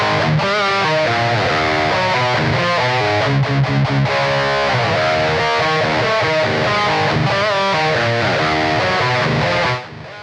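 Heavily distorted thrash metal riffing on an EMG-loaded electric guitar through a Blackstar Beam pocket amp, loud and continuous with tight chugging palm-muted bursts and chords for about ten seconds before cutting off.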